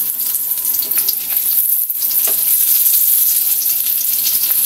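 Eggplant omelettes (tortang talong) frying in oil in a pan, a loud steady sizzle close by that continues throughout with faint clinks, no speech.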